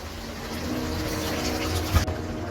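One and a half cups of water pour steadily into a cooking pan of bottle gourd curry for a couple of seconds, a soft rushing splash with a small clunk near the end.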